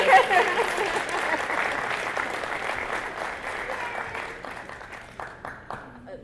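An audience applauds for a roast comedy duo, broad crowd clapping that starts strong and gradually thins and fades, with a few voices talking over it.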